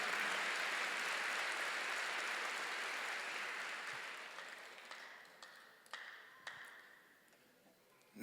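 A church congregation applauds during a sermon, with a broad steady wash of clapping that slowly thins and fades, leaving a few scattered claps near the end before it dies away.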